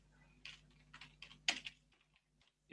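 Quick bursts of keystrokes on a computer keyboard while an address is typed, several close clicks bunched together then trailing off, faint over a low room hum.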